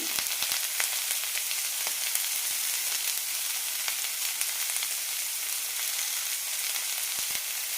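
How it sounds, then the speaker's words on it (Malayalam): Green peas sautéing in a pan over a low flame while being cooked for jowar upma, giving a steady bright sizzle with scattered faint clicks of a spoon stirring, close and continuous with no talking. "ലോ ഫ്ലെയിമിലിട്ട് നന്നായി വഴറ്റിയെടുക്കാം"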